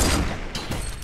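A sniper rifle fires in a video game, one sharp, loud shot with a booming tail, followed by a second fainter burst of gunfire.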